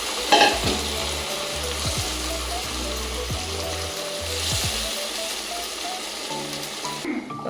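Onions and meat with green chillies sizzle and spit in a hot pan, a steady loud frying hiss with repeated scraping stirs and knocks of a utensil throughout.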